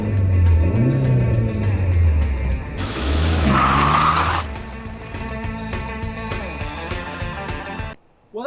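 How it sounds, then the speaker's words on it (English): A Proton Wira car engine revs hard, rising and falling in loud bursts with strained high-pitched whine, then settling into a steadier drone before cutting off abruptly near the end. "rev up my engine!"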